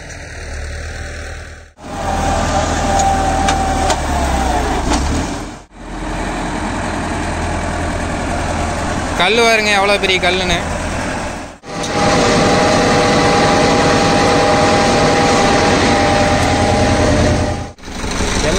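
A Farmtrac 6065 Supermaxx 65 hp 4WD tractor engine runs in a field, a loud steady diesel drone cut by brief breaks, with someone talking over it.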